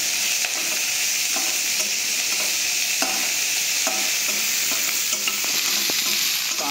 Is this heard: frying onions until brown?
yes